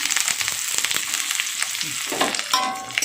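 Chopped onion with nigella seeds spitting and sizzling in hot oil in a wok, a steady loud crackle with a few stirring scrapes near the end.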